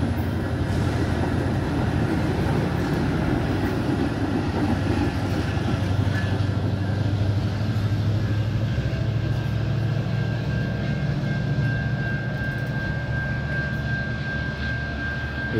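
A train arriving from Chicago enters and then leaves Antioch railway station, making a steady, loud, heavy rumble with a thin sustained whine above it. No one speaks.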